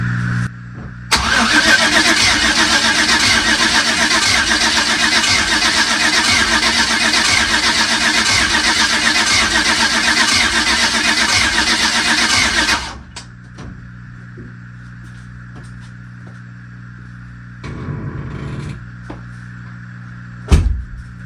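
A car engine being turned over to circulate oil, cranking without catching, makes a loud, steady churning drone for about twelve seconds, then cuts to near silence with a few faint knocks.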